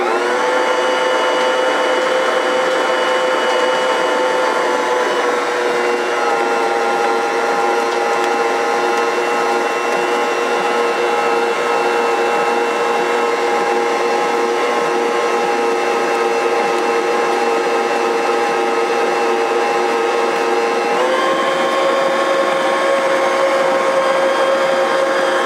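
A lidded machine mixes chai spice shortbread dough with a loud, steady motor whine that shifts pitch twice as the load changes, running continuously and close with no talking.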